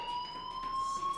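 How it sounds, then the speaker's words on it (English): A fire alarm rings in a video game, a steady high electronic tone sounding continuously at moderate volume over a faint background. "do you hear that fire alarm?"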